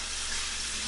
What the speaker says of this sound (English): A little water in that skillet there.